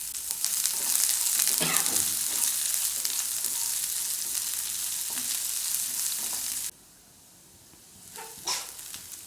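Chopped onions sizzle and fry in a hot pan for masala dosa, a steady close hiss running for several seconds before cutting off, followed by quieter stirring scrapes.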